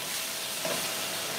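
Cooked shrimp searing with red chili flakes in a hot pan for a keto shrimp stir fry, a steady soft sizzle and hiss filling the short stretch without talk.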